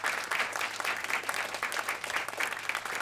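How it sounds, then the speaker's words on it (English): Warm applause from the audience at a spring playwriting contest program, a steady, moderately loud wash of many hands clapping with no speech. "One big round of applause for like everybody in the whole world"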